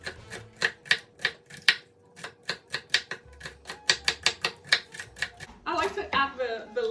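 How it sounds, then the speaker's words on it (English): Knife chopping celery into small pieces on a cutting board for Dominican chicken soup: a steady series of sharp, close taps, about twenty in quick rhythm, then denser rapid chopping at the end, with no voice over it. "We're going to cut it in little pieces."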